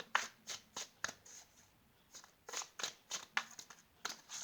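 Tarot cards are shuffled up close for a reading, giving a quiet series of quick riffling snaps in uneven bursts with short pauses between them.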